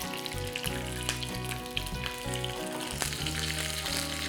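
Curry leaves hitting hot oil with cracked dry red chillies and popping mustard seeds, tempering for a coconut chutney: a close, busy sizzle and crackle with scattered sharp pops, steady throughout with no talk.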